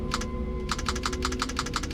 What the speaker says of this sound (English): I'm just going to push all the buttons on the keyboard a bunch of times